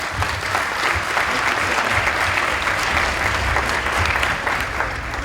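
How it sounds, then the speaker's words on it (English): Loud, sustained applause from a large crowd, steady clapping filling the whole stretch without letting up. "So anyways, give a round of applause for our Roop Raj."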